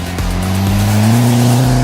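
A Ford Fiesta ST fitted with a rear 20mm non-adjustable sway bar corners hard, its engine droning loud and close as the tyres squeal with a rising, sustained tone.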